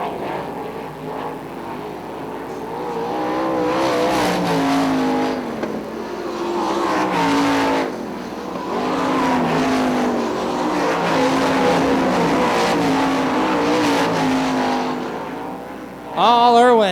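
Sprint cars race around a dirt oval at Ionia Raceway Park, engines roaring steadily and loudly with rising and falling revs as cars pass, a dense continuous pack sound with a sharp swell near the end.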